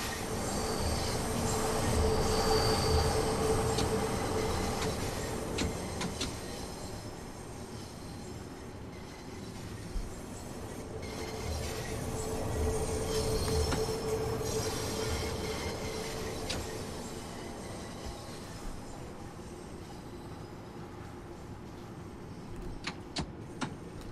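London Underground Bakerloo Line train running in Train Sim World 2, a steady rumbling drone of motors and wheels with faint tonal whine and occasional clicks, continuous throughout without talk.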